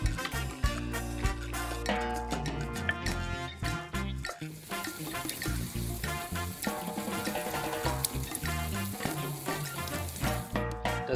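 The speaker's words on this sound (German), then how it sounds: "Und jetzt braten wir unsere Kartoffeleimasse scharf an." A potato and egg mixture for a Spanish tortilla sizzles and fries steadily in a hot pan, a continuous crackling hiss heard close up without talk.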